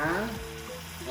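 Corned beef kaldereta sautéing in a pan, a steady close sizzle and fry with light stirring, heard alone.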